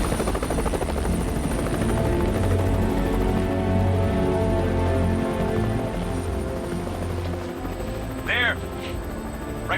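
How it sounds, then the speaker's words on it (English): An Air Force helicopter flies overhead with a steady, loud rotor drone that lasts throughout and fades slightly toward the end, with a brief voice-like sound near the end. "A specialist Air Force helicopter with night vision headsets has been drafted in to allow the airborne surge to continue through the night"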